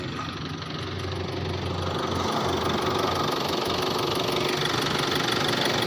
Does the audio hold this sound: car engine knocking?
yes